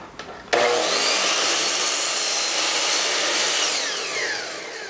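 A miter saw slices through a cedar board: a quick motor spin-up, then a loud, steady, close whine and rasp of the blade through the wood for several seconds, easing slightly as the cut finishes.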